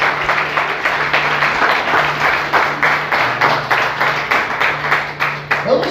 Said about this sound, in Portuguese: E aplauda Jesus com forte.